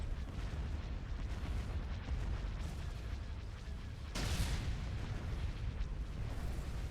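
Starship weapons firing in the Empire at War mod Thrawn's Revenge, a dense, continuous barrage of booming blasts and bursts with a sharp, brighter volley near the middle, loud and unbroken throughout.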